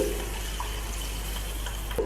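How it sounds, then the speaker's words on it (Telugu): A glass of water is poured over about ten soapnuts in a pot, a steady near trickle and splash lasting the whole moment, with a small clink at the end and no talking. "ఇందులో ఒక గ్లాస్ వాటర్ని పోసుకుందామండి"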